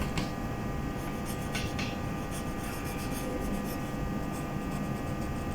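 Pencil lines being drawn on paper for an isometric technical drawing, a faint continuous scratchy stroke sound close up over a steady background hiss.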